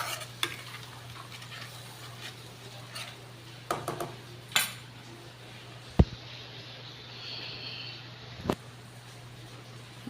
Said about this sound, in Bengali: মশলাটা এবার কষানো হবে।